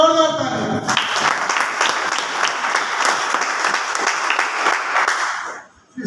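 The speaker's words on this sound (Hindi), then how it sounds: "एक बार सभी साथियों के लिए जोरदार ताली" A seminar audience bursts into loud, sustained applause and clapping for colleagues visiting from Bhilwara, starting after a second and continuing steadily for several seconds before fading out.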